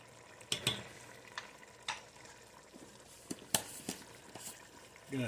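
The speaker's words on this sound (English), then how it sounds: "I'm going to stir it in with the meat and the juices from the meat" A spoon scraping and stirring beef base into browned meat and its juices for chili, with soft sizzling, intermittent clinks against the pan, and some talk.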